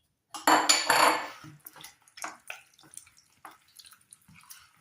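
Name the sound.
mixing chicken wings and potatoes in a baking tray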